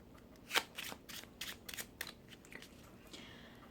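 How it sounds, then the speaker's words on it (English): Overhand shuffle of a deck of playing cards, a quick series of soft riffling slaps and flicks close by, one sharper snap near the start, then lighter taps fading out. "And then you can give the cards an overhand."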